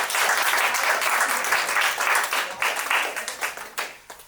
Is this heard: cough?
no